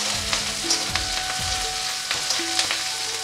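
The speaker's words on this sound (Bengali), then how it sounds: "পেঁয়াজের সাথে কাঁচা লঙ্কাগুলোকে একটু ভেজে নিচ্ছি।" Green chillies and onions fry in oil in a pan with a steady, close sizzle and crackle, and soft stirring scrapes come through now and then, with no voices.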